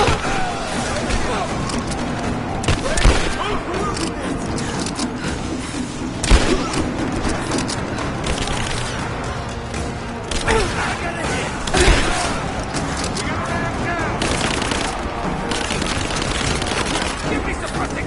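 Heavy gunfire as suppressing fire in a combat scene: continuous rattling shots with several louder booming bursts, and shouting voices mixed into the din throughout.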